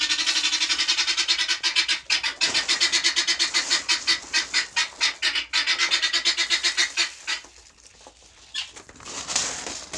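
A group of ducks quacks loudly and rapidly in a fast, continuous rhythm close by, then tapers off into scattered calls near the end.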